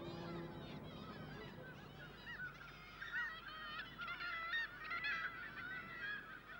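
Kittiwakes calling from a nesting site in a town, a soft chorus of overlapping shrill, honking cries rising and falling at moderate distance over a low background hum.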